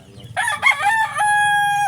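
A rooster crows once, loud and close, a rising then held cry that trails off into a steady tone.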